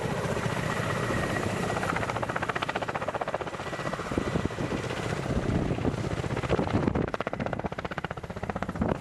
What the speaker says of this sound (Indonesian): Ka-52 Alligator menjadi salah satu helikopter tempur yang paling dihormati dan ditakuti di dunia